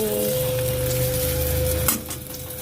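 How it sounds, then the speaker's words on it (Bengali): Eggplant slices fry in a pan in a home kitchen, giving a steady, close sizzle that runs throughout and eases slightly near the end, with a faint clink partway through. "রান্না করছি বেগুন ভাজছি বেগুন ভাজা বেগুন ভাজা"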